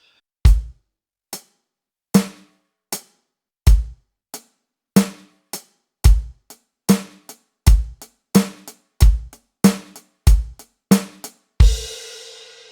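Basic rock drum beat played on a kit: punchy bass drum hits alternating with snare strokes, starting slow and sparse, then tightening into a steady quicker groove, ending on a ringing cymbal crash.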